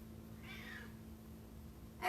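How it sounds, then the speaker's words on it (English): Domestic cat indoors in a living room giving a single soft, fairly faint meow in a quiet room, with a brief louder noise at the very end. "And here's the cat."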